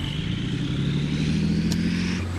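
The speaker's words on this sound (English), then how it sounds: "This is where all the exhaust gases come out of the back of the tank." An Armoured Vehicle Launched Bridge tank engine runs at the rear exhaust grills, a loud steady droning rumble up close, with a slight pitch shift near the end.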